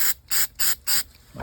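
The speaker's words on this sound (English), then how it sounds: "make sure you only buy this kind of bottle. It says mass airflow sensor cleaner. Just shake it and just spray it" Four short bursts of mass airflow sensor cleaner hiss from an aerosol can, evenly spaced, close and bright, with quiet gaps between sprays.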